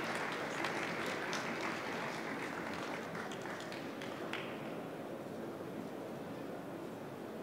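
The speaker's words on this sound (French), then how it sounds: "Vous pouvez l'applaudir et repartir" An audience at the EUROBOIS 2018 trophy awards ceremony applauds a winner. The clapping is faint and distant, a steady wash of many hands that thins slightly toward the end.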